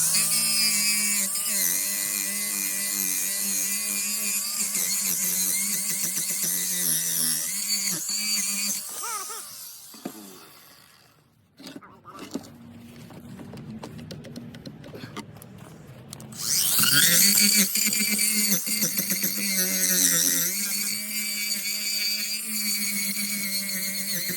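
A HYCHIKA 20V cordless angle grinder cuts into a clamped workpiece with a loud, high whine. The pitch drops and the sound cuts out midway, then it comes back loud and strained.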